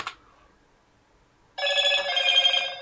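A telephone rings loudly and alone, a steady trilling electronic ring that cuts in abruptly after a quiet stretch and keeps going to the end.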